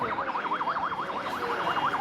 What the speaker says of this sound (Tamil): ஆம்புலன்ஸ் வருது, வழிவிடு